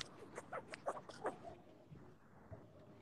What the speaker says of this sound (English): Look at them dogs back there.